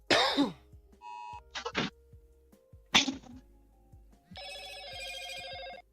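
A livestream donation notification plays as a quick run of electronic beeps and short noisy bursts, then ends in a sustained buzzy chime, all fairly clear against near silence.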